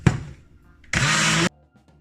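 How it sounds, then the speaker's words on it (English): A blender whirs through a frozen sea moss smoothie: a brief opening burst, a pause, then a loud, steady half-second run that cuts off abruptly. "And I'm gonna blend."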